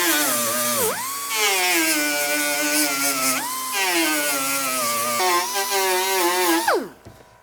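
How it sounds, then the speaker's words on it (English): An 80 grit roll-lock disc on a grinder blends welds into a rusted car floor pan: a steady high whine that dips and swells as pressure changes, loud and close, ending as the tool spins down. "I'm going to get an 80 grit roll-lock disc, and I'm going to go over that, and that's where I'll start to really blend the weld into the panels"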